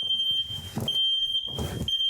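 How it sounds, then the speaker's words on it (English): A smoke alarm sounds a loud, continuous high-pitched tone in a kitchen while steak is cooked, with rustling and bumping noises nearby. "Last thing we want is to set off the fire alarms."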